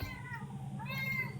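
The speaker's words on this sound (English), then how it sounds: "Don't you meow at me." A cat gives a single faint, drawn-out meow at close range in a quiet room.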